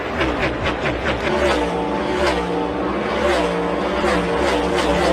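Race cars at Daytona roar together as a race gets underway, a dense continuous engine drone with rising whines, loud and steady throughout.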